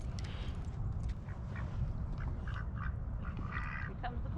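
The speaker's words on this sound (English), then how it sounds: "The ducks seem happy too." Ducks quack repeatedly at a lake trail, several calls overlapping at moderate distance above a steady low outdoor rumble.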